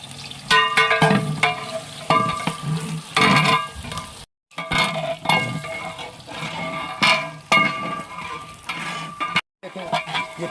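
Onions going into hot oil in a large cooking pot for a chana pulao deg sizzle and crackle loudly, with bursts of stirring and metal scraping and two brief drops to silence.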